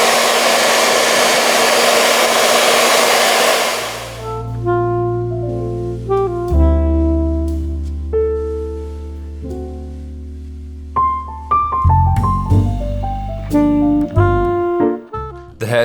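A hair dryer blows loudly and steadily in a men's hairstyling session for about four seconds, then cuts off and gives way to a sequence of clear musical tones.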